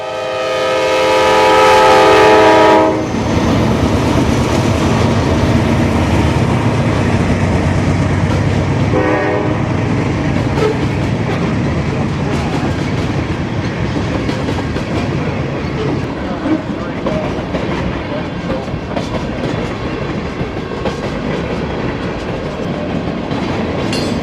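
Freight train rolling through a rail yard carrying fertilizer, grain and general merchandise, opening with a long loud horn blast, then steady wheel rumble and clicking of passing cars that continues close by for the whole stretch.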